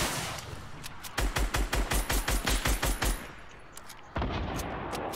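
Rapid bursts of minigun fire in a video game, a fast rattling string of shots from about one to three seconds, then sparse single cracks and a louder steady noise returning near the end.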